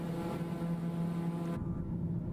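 A Daher TBM 930 turboprop in Microsoft Flight Simulator hums with a steady, droning engine tone as power comes up during a climb, continuous and loud, with a change in timbre partway through and no speech.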